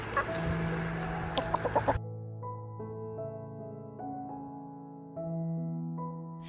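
A domestic chicken clucks in a quick burst of short, close calls, and then gentle tonal music takes over.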